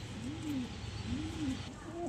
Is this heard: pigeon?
yes